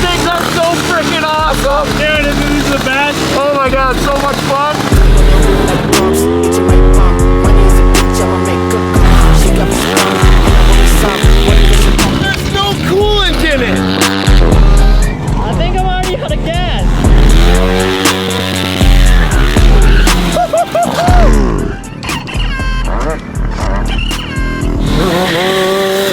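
A small-engine racing lawn mower revs and drives hard, its loud buzzing engine note rising and falling continuously, with excited voices talking and shouting over it throughout.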